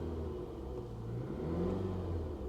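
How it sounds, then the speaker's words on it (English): A 2015 Dodge Durango engine runs steadily at close range, a low, even rumble with a slight swell partway through and no voices over it. "Engine sounds healthy."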